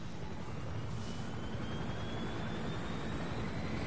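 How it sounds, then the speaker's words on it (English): A helicopter in the video game Far Cry 6 flies overhead, a loud, steady, dense rotor-and-engine roar that fills the scene continuously with no talk and a slowly rising whine on top. "the fucking helicopter's too loud"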